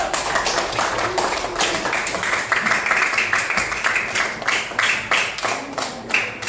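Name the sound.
group clapping hands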